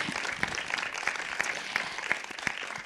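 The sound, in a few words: audience applause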